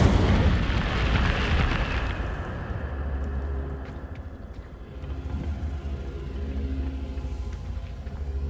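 Incendio fire spell cast in Hogwarts Legacy: a loud, heavy burst of roaring fire and rumbling booms that fades into a lingering low rumble with scattered crackles, no talking.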